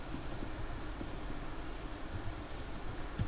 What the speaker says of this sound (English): I'm just typing stuff out.